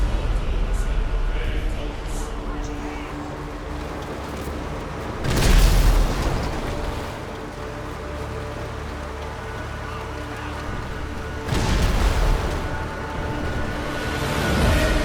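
Explosions in the GTA video game: two loud, broad booms roughly six seconds apart, each bursting over a steady rumbling game background with a short decaying tail.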